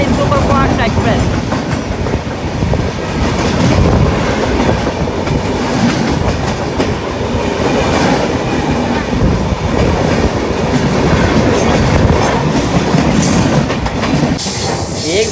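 The Jaynagar–New Delhi Swatantrata Senani superfast express runs at speed, heard from on board. Loud continuous rumble with rhythmic clickety-clack of wheels over rail joints and occasional squeals.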